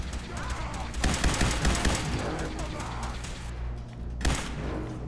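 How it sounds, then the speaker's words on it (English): A laser rifle fired in Fallout 4, sharp crackling shots with one strong blast near the start and another near the end over a dense rumble of combat noise. "Laser rifle."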